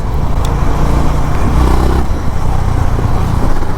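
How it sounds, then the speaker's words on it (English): A Honda H'ness CB350 motorcycle engine idles loud and close, a thick, steady exhaust rumble with slight rises in revs throughout. "It sounds very similar to a Royal Enfield Classic 350"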